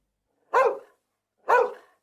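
A dog barks twice, each a single loud, close bark about a second apart, with silence around them.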